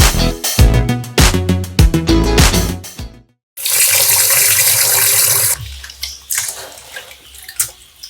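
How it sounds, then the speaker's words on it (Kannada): Crabs being washed in water under a running kitchen tap for Mangalore-style crab sukka, with splashing and handling noises, then a steady loud rush of flowing water for about two seconds, followed by quieter dripping and rinsing. "ಇದೆಲ್ಲ ಆಮೇಲೆ ನಾವು ನೀರಲ್ಲಿ ಹಾಕಿ ಕ್ಲೀನ್ ಮಾಡಲಿಕ್ಕೆ ಉಂಟು."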